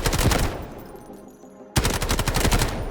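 A CL19 assault rifle firing in the Delta Force video game: a loud, rapid automatic burst that stops briefly and then resumes with another dense string of shots.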